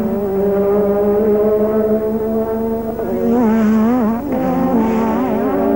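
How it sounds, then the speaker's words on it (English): Formula One race cars at the 1984 Austrian Grand Prix, including a yellow Renault and a red and white McLaren, give a loud, continuous high engine whine that rises and wavers in pitch as they race past. "Tombay in the yellow Renault, Lauda in the red and white McLaren."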